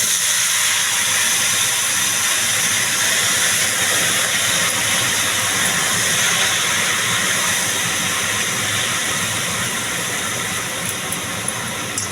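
Water spinach (kalmi greens) goes into hot oil with fried garlic and green chillies, giving a loud, steady, unbroken sizzling hiss throughout. No one speaks.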